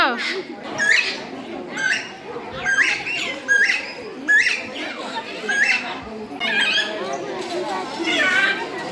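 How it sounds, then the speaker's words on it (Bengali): Birds chirp and call repeatedly in short bright bursts at Gazipur Safari Park, Bangladesh, with children's voices and chatter in the background. "জিনিসটা সবচেয়ে ভালো লাগছে ওইটা হচ্ছে পাখির কিচিরমিচির শব্দ"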